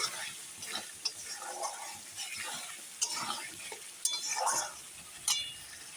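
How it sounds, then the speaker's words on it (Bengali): Cauliflower, new potatoes and peas are sautéed with spices in a pan for a curry. A soft, steady sizzle runs throughout, with frequent close spoon scrapes and occasional light metallic clinks. "দেখো এখন কষানো হতে থাক"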